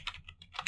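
Quick keystrokes on a computer keyboard during a coding session, a short soft burst of several clicks in quick succession, close and alone.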